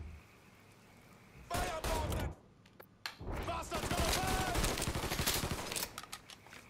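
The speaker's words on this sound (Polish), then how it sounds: "te głąby tam strzelają" Enemy gunfire in the Mafia 3 video game, a dense stretch of rapid automatic bursts that cuts out briefly and then resumes louder and sustained, with game sound and a voice mixed in.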